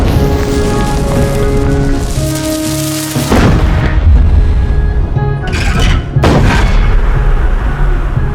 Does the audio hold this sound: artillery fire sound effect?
yes